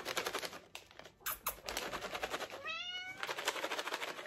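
A cat meows nearby, a short rising meow near the end amid rustling and tapping sounds and brief bursts of noise.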